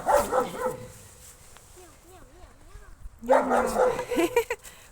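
A dog playing with a stick on a snowy walk gives short yips and whimpering whines, with people talking close by.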